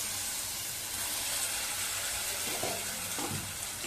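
Tomatoes cooking in an open pan once the lid comes off, a steady dense sizzle and hiss with faint stirring scrapes near the end.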